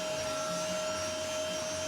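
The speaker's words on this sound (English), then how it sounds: "it's probably more a job for a shop vac" A vacuum cleaner sucks sand out of a 2005 Honda Element, a steady, even whine with a constant tone and no break.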